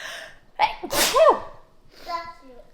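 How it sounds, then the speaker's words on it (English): A single sharp sneeze bursts out after a quick inhaled buildup, close and loud, followed by a brief soft vocal sound. "Oh, I'm gonna sneeze."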